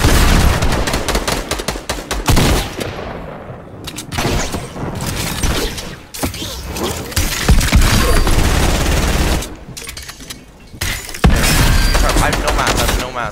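Gunfire from the video game Fortnite during a trio tournament: loud, dense bursts of rapid shots and impacts, with brief lulls between volleys.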